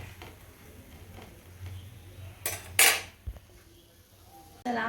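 Dishes, pots and cutlery clatter while being cleared up in a home kitchen, a few sharp clanks and scrapes over quiet room noise, with a louder burst of clattering near the end.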